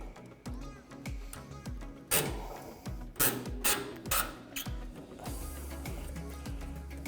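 Small Phillips head screws are worked out of a 1965-1966 Mustang parking light lens, giving a steady run of close, faint ratcheting clicks and scrapes with a few louder knocks.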